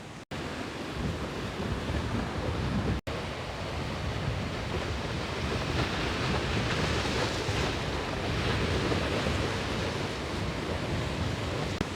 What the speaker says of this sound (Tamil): பயங்கரமான கடல் அலைகள் கீரிமலைகள்